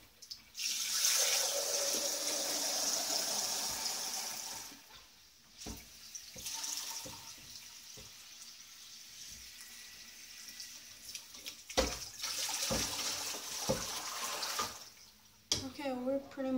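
Tap water runs into a container while making smoothies, a steady broadband rush in bursts with pauses, alongside clattering and people talking in a home kitchen.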